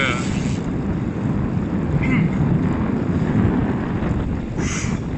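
Steady wind roars and buffets the microphone throughout, a constant low rumble with no talking.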